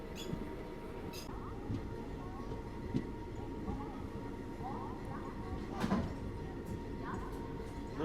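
The ICF YUVA Express passenger train running as it nears Sehore railway station, a continuous low rumble and rattle of the carriages with occasional clanks and squeaks, steady and close throughout.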